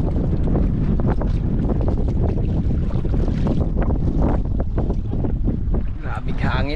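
Strong wind buffeting a small boat at sea, loud continuous blustery roar with microphone rumble and faint splashing, a voice briefly under the gusts.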